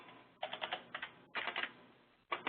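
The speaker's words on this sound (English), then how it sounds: "I'm just going to type it in here" Typing on a computer keyboard: quick clusters of crisp key clicks come in three separate bursts with short quiet gaps between them, close and fairly loud.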